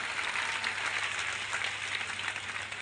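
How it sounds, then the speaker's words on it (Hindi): A crowd at a political rally applauds, a steady wash of clapping that stays even and moderately loud for a few seconds, with no talking. "तालियों की गड़गड़ाहट से"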